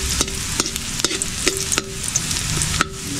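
Garlic and onions sautéing together in a hot pan, a steady close sizzle broken by repeated sharp clacks of a utensil stirring and scraping the pan, about every half second.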